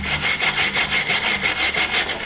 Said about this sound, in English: I'm going to clean it up with a wire brush real quick.